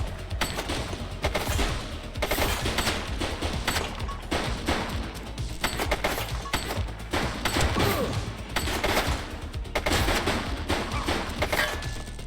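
Rapid gunfire in the police video game The Precinct during a gang raid, with repeated loud bursts and fusillades of shots spread across the whole stretch, dense and close with little pause.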